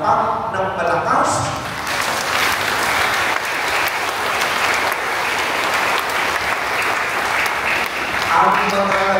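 A large congregation claps loudly and continuously inside the National Shrine of Jesus Nazareno during a homily, with a priest's voice heard briefly at the start and end.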